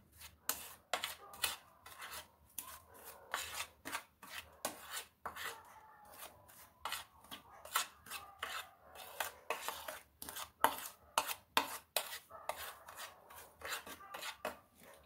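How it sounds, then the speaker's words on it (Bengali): Dry coating ingredients with white sesame being mixed for crispy no-oil brinjal fry, a series of close, dry rasping scrapes and rubs in an uneven rhythm, fairly quiet with short pauses between strokes. "এবার শুকনো উপকরণগুলো খুব ভালো করে মিশিয়ে নেব।"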